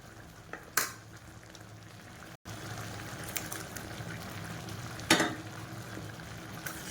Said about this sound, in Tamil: இப்போ இதில் பருப்பை வந்து ஊற்றிடலாம்